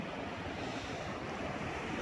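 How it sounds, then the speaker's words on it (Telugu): Sea waves wash onto Suryalanka beach at night, a steady rushing surf with wind noise over the microphone, continuous and fairly close, no talk. "ఆ అలలు"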